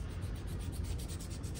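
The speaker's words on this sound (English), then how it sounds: "I'm not sanding, I'm lightly scuffing" A gearbox surface being lightly scuffed before RTV is applied, producing quick, even back-and-forth rubbing strokes, close and soft, with no talking.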